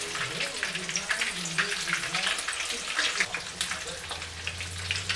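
Scotch eggs fry in hot oil with a steady, close, crackling sizzle that runs unbroken throughout; a low hum joins in near the end.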